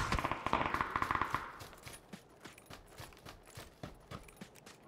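Rapid automatic gunfire from the battle-royale video game PUBG (Battlegrounds), a dense burst of sharp cracks at the start that thins into scattered, quieter shots and clicks, with no talk over it.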